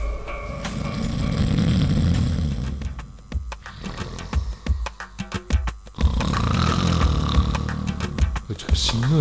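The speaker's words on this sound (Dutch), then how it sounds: "Het gesnurk van de wolf was zo gevig," Deep, rumbling snores from a wolf in a Little Red Riding Hood fairy tale rise and fall in long drawn-out breaths, broken by a stretch of choppier sound in the middle, with a storyteller's voice around them.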